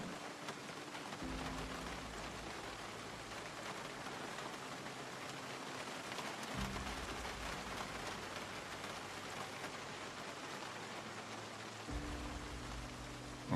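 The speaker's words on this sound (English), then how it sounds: "it just went back to rain." Steady, hissing rain falling in the Project Zomboid video game, a constant even wash with a low rumbling drone cutting in and out, no voices present.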